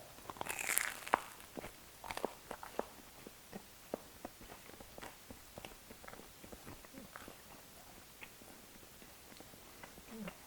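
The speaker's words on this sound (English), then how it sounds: "Just testing out the crust crunch and chewiness of this bagel." Someone bites into and chews a crunchy homemade bagel crust up close, making quiet irregular crunches and soft clicks over about ten seconds, with a louder bite near the start.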